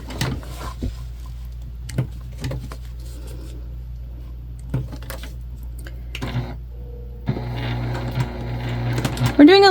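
A sewing machine topstitching a travel sling bag, short bursts of stitching separated by pauses and a longer steady run near the end, heard close up while a person talks over much of it.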